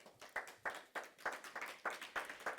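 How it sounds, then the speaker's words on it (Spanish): A church congregation claps in a slow, even rhythm, about one clap every third of a second, faint and somewhat distant with little else around it. "Denle un aplauso al Señor"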